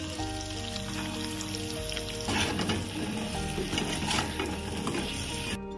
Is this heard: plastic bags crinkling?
no